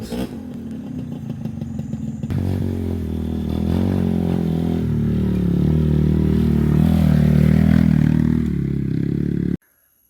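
A borrowed motorcycle is ridden over slippery terrain, its engine loud and near, rising in pitch from a steady drone to a strained rev with some clatter before stopping suddenly.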